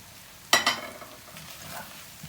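A spoon stirs oil seasoned with salt, black pepper, pepper flakes, garlic and cumin in a pan for a zucchini and potato tray bake. A sharp scrape and a burst of sizzle are followed by a fading, close sizzle and a softer second stir.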